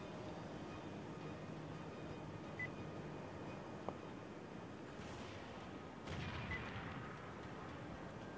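Machine gun fire in a fighter jet combat video game, rattling bursts over a steady roaring engine drone, heard as a faint, distant background mix with no talking.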